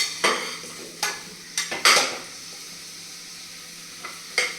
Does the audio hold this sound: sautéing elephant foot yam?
yes